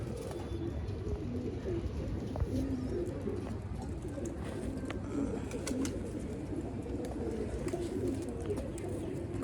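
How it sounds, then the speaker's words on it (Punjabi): Pigeons coo softly and continuously in the background, a low murmuring chorus with occasional faint chirps over a steady ambient hum. "ਕਬੂਤਰ ਦੋਸਤੋ ਸਾਰੇ ਬਾਹਰ ਕੱਢੇ ਹੋਏ ਆ"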